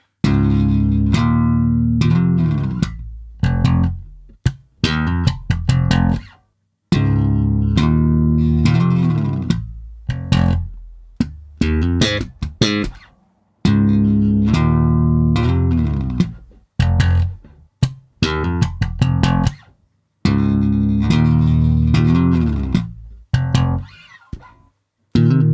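Slow electric guitar double-stop phrases of paired ringing notes, played in short separated bursts with brief pauses between them, clear and upfront.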